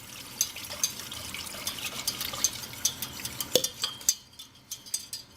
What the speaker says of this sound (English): then we start mixing in our 2 cups of broth. Just nice and slow, stirring it in, incorporate it.